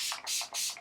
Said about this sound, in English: I'm going to take my Urban Decay All Nighter Spray.